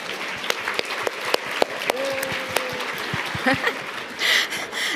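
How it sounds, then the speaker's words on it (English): Scattered applause from a meeting audience at a table discussion session, with sharp individual claps standing out, light laughter, and a brief murmur of voices near the end. "Let's give a round of applause for Andy, Dallas, and Connie."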